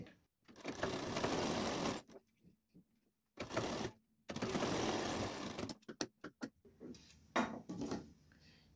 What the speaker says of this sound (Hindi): इसको हम यहाँ पे रखेंगे और इसको सिलाई लगाकर जोड़ देंगे